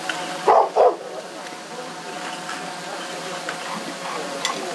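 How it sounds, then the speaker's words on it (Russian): A dog gives two quick, fairly loud barks near the start, then quieter outdoor ambience follows on a Dnieper river island nature reserve during a litter cleanup, with faint voices in the background. "Еще один участник акции — пес Чаки."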